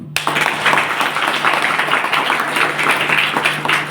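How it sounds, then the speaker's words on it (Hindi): Loud, dense applause fills a church gathering during a Hindi sermon, with rapid clapping from many people that continues without a break. "जोरदार तालियां"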